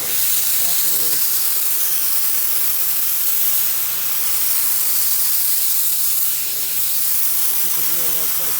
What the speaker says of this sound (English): This is a real low pressure rinse.